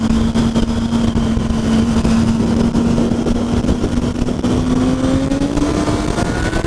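A Honda Hornet motorcycle accelerates in town, its engine note rising steadily in pitch over several seconds, loud and close with a constant rough roar and no voices.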